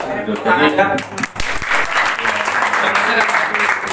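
Participants at a hypnosis workshop applaud with a burst of close, steady clapping that carries on after a brief dip. Voices are mixed in under it.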